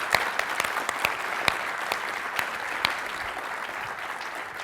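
Audience applause at the LISA15 systems administration conference opening session, a steady wash of clapping from a crowd with scattered sharper individual claps standing out, fading slightly toward the end.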